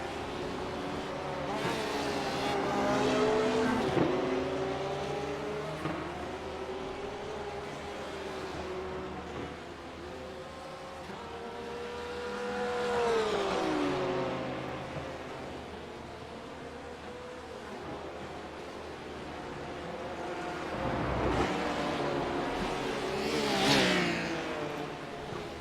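GT3 race cars circuit the Rudskogen track, engines rising and falling in pitch as they accelerate and shift, swelling as cars pass by at moderate distance and fading again, a steady layered roar over the whole stretch.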